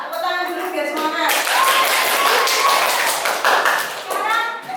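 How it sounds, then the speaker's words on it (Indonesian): A classroom of children claps together for a few seconds, a loud close burst of rapid clapping between stretches of a voice. "Tepuk tangan dulu biar semangat"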